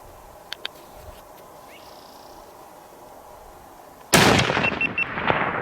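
A single loud gunshot rings out during a bear hunt in Idaho, sudden and close after a quiet outdoor stretch with two faint clicks, then a long rumbling echo rolls away.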